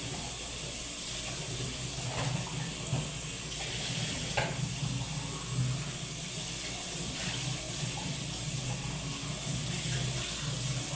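Dirty water runs from a household faucet after a flood, a continuous hissing, splashing stream at moderate level with faint clinks, with no talking over it.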